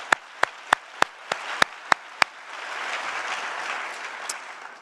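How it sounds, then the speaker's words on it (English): Audience applause at the City of Newport News State of the City address: a handful of sharp, separate claps open, then the crowd joins in a sustained wash of clapping that fills the room to the end. "we can clap that up."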